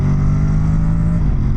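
A 2025 Honda NC750X DCT motorcycle accelerates at full throttle in standard mode, a loud, close, droning engine note holding steady pitch then dropping slightly as it shifts near the end.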